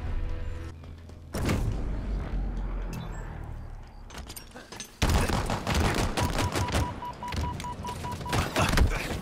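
Pistol fire in Halo Infinite comes in sharp, loud bursts of rapid shots, with clusters of cracks and a busy, intense stretch near the end.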